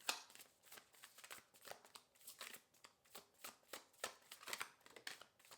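A deck of cards is shuffled repeatedly during a tarot pick-a-card reading, quiet and close, a rapid run of crisp riffling bursts in an even rhythm with no talk.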